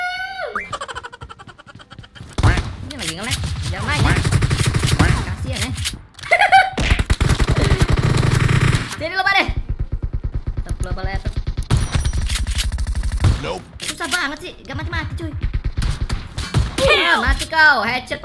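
Shotgun gunfire in the mobile battle-royale game PUBG Mobile, loud bursts of rapid shots in clusters through most of the stretch, with someone talking and game sounds between volleys.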